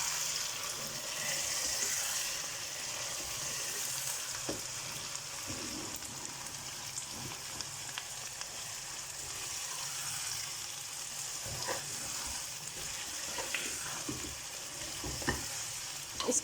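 Steady sizzling and crackling of chicken frying in a karahi, with occasional stirring clinks and scrapes, continuous and close.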